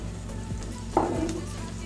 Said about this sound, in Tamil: இப்போ வந்து இந்த மாதிரி நல்லா வதக்கிக்கோங்க